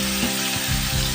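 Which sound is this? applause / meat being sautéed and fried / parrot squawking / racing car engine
meat being sautéed and fried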